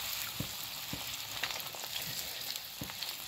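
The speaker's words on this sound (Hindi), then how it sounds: "अब हम जो ब्रेड रोल कर काट के रखे थे, अब इनको अच्छे से हम फ्राई कर लेंगे" Bread rolls frying in refined oil make a faint, steady sizzle, broken by a few soft clicks and taps, with no one speaking.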